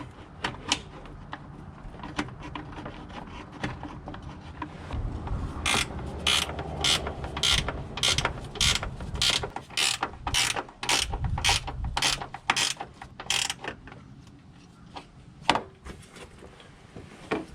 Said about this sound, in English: now that we got it all tightened up